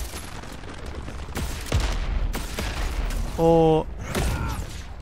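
Explosive ammo weapons fire in Crackdown 3 during Wrecking Zone multiplayer, several sharp booming blasts over a dense, noisy game mix with a mechanical whirring burst in the middle and a brief word spoken.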